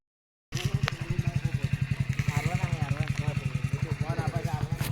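A motorcycle ridden along a road, its engine pulsing in a fast steady low rhythm that rises slightly as it pulls, close and loud throughout, with some clatter and wind noise on top.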